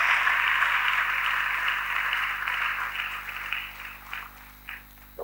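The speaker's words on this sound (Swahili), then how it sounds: "Tupige makofi kwa sababu ya usomi wa neno la Mungu" A church congregation applauds after the Bible reading, a broad wash of clapping that gradually thins and fades, ending in a few scattered claps.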